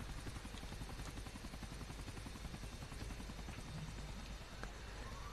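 A helicopter in GTA The Ballad of Gay Tony gives a steady chopping rotor beat, moderately loud and continuous, with faint game noise layered in and no speech.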